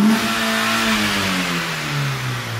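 A Nissan Sentra SE-R 2.5 engine, warmed up, revs up and then slowly winds down, its droning pitch sliding lower over a couple of seconds, loud and close.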